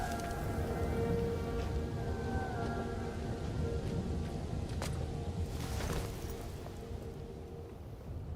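Heavy rain pours steadily throughout a storm, with a sharp thunder crack near the middle followed by a rumbling roll, the downpour easing slightly toward the end.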